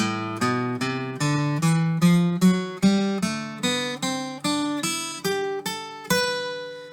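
Guitar lead line from a two-measure exercise, about sixteen evenly spaced picked single notes stepping up and down in a steady rhythm, clear and close with no talking.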